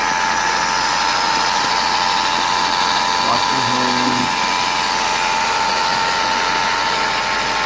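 A running 2006–2011 Mercedes B200 W245 engine with a noisy alternator gives a close, steady hum and whine. A brief low knock sounds partway through, and faint talk can be heard.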